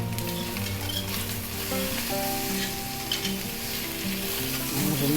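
Taro (sepankizhangu) pieces roasting in a pan with rice flour, a loud, dense, continuous sizzle heard close up, with faint music tones running underneath.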